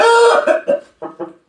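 A rooster lets out a loud, close cluck-like call followed by several short, rapid clucks trailing off in quick succession.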